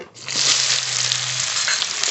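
Chopped onion dropped into hot mustard oil in a pan, setting off a sudden loud, close, steady sizzle that holds for the rest of the moment, with no voices.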